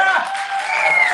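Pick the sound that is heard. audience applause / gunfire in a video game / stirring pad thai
audience applause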